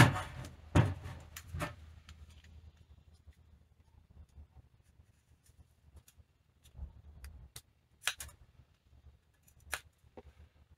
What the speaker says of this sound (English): just take a nice sharp razor blade where I've got that good edge there